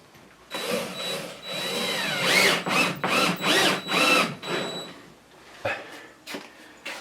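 A power drill drives drywall screws to mount a PEX manifold, giving a close series of rising and falling motor whines in several bursts, followed by a few sharp clicks and knocks as the driving stops.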